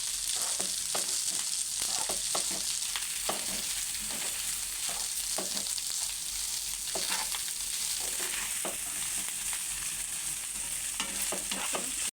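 Leftover rice is stirred in a pan for lemon pulihora, with repeated spoon scrapes and soft clacks over a steady gentle sizzle, close up and with no voices.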